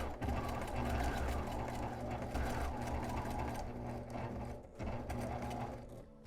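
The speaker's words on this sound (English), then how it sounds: "I'm just going to sew these 2 sides together" A sewing machine stitches the two sides of a fabric mask together, a fast, continuous mechanical whirring up close that slows briefly near the end before resuming.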